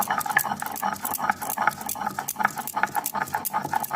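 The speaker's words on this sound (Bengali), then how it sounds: "আমি এখানে এই সর্ষে আর কাঁচা লঙ্কাটা বেটে নেব" Mustard seeds and green chillies are ground on a grinding stone, making rhythmic rasping, scraping strokes with a gritty rattle, close and moderately quiet.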